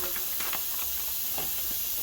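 A paint spray gun gives short spray-out bursts of mixed paint, a steady close hiss with faint breathy pulses and no talking.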